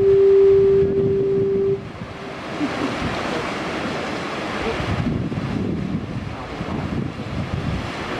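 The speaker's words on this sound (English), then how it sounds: "And you can hear the foghorn." Foghorn at Portland Head Lighthouse in Portland, Maine, sounding one loud steady blast for under two seconds, then ocean surf and gusty wind noise rushing on alone for the rest of the clip.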